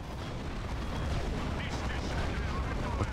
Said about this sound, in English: Looks like a shotgun, I think.